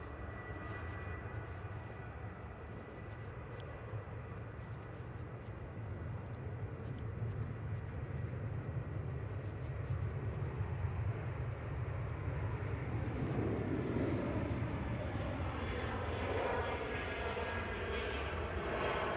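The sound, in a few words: Ryanair jet taking off for Cork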